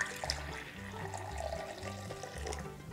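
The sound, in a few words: pouring lukewarm water onto yeast and sugar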